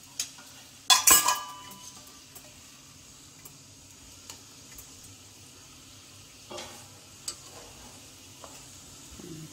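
Spicy vegetable pulao with coriander leaves being stirred in a pan, one loud burst of spoon scraping against metal early on, then a quiet low sizzle with a few faint taps, close and alone.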